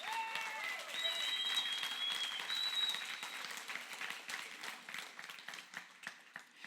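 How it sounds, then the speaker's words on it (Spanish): A church congregation applauds, moderate clapping that swells and then thins out over several seconds, with some crowd noise mixed in. "Ese aplauso fue medio flojo."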